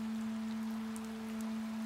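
Light rain in a cartoon, a soft continuous patter and hiss over a steady low hum, evenly quiet for its brief length.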